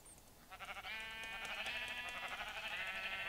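A sheep trophy in the Minecraft video game bleats once, a sustained wavering baa that starts softly and holds steady at moderate loudness, with no other sounds.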